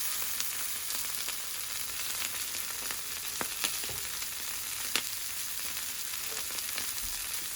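Kale with garlic and oil cooks on a grill, giving a soft, steady sizzle with scattered faint pops and light clicks, fairly quiet and close, no speech.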